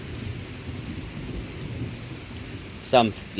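Rain falls steadily through a thunderstorm while low thunder rumbles underneath, and near the end a voice briefly cuts in close by.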